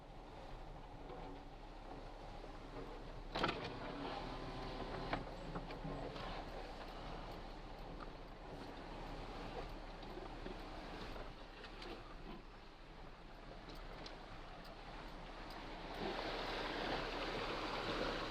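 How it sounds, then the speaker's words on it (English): Faint, steady rush of a small, clear stream at a trail river crossing. Low, continuous flow with a few soft knocks and footfall-like clicks, and the water grows slightly louder toward the end. "there is a river crossing."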